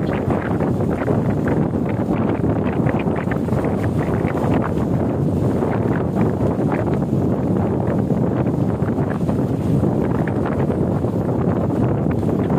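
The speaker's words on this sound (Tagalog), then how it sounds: "So kita po natin guys yung mga alon, hampas ng alon malakas na talaga" Continuous roaring wind from Typhoon Odette buffets the microphone over a dense, churning wash of rough sea water on a Bohol island, loud and unbroken throughout.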